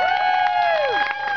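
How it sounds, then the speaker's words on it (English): A street-show crowd applauds and cheers, with a held whistle-like shout over dense clapping and cheering that stays loud through the brief stretch. "Give them one more big round of applause."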